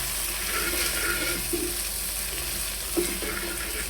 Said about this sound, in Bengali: লবণ দেওয়ার পর আমি এই সবগুলো উপকরণ একসাথে ভালোভাবে সুন্দর করে নেড়ে চেড়ে নেব